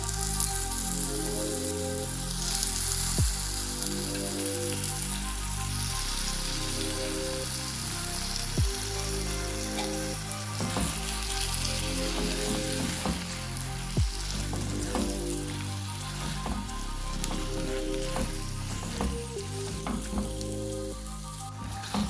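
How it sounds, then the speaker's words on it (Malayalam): Prawns fry in masala for a prawn curry, a steady close sizzle broken by repeated rhythmic scraping stirs against the pan, with no voices. "ഇത് നമ്മുടെ ചെമ്മീൻ നമുക്ക് ഇതിലേക്ക് ഇട്ട് കൊടുക്കാം"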